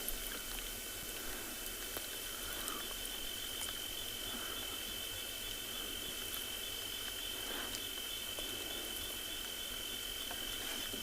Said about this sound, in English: Lovely sound of the crickets.